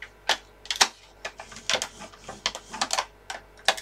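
Card stock is creased and scored with a tool, producing a quick series of sharp dry clicks and scraping ticks in an uneven rhythm, close and crisp.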